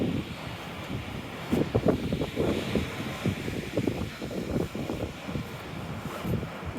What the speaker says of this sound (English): Windy up here, so I suppose it's very loud on the video